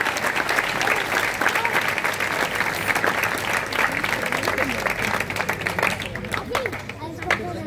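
An outdoor town-square crowd at a live folk concert in Huesca applauds the guitarist, a steady dense wash of clapping close and loud throughout with some murmuring voices.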